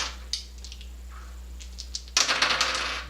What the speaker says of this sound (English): I'm going to re-roll 3 of these dice